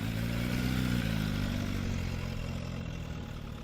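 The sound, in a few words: Aprilia RSV4 superbike engine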